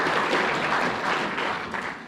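Short burst of audience applause at a club night panel of college recruiting coaches, steady mid-distance clapping from a modest crowd, fading slightly at the end.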